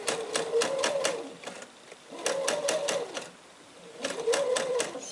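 A sewing machine stitches a mitered quilt border in short bursts, three runs of rapid rhythmic needle clatter separated by brief pauses, close and fairly loud.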